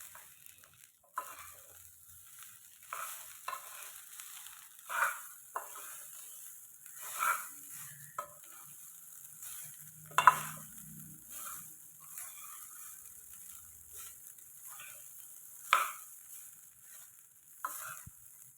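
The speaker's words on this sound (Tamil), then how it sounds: "எல்லா பக்கமும் நல்லா கலந்து விடணும்" Curry leaves rice is stirred and mixed in a pan with a spatula, producing intermittent scraping and tossing strokes at an irregular pace over a faint, soft sizzle, close by and fairly quiet.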